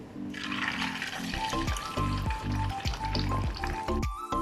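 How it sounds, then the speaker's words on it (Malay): Loud, crackling sizzle of chicken frying in hot oil in a wok, bubbling steadily and close by with no voices. "memasukkan ayam di dalam kuali yang berisi minyak panas"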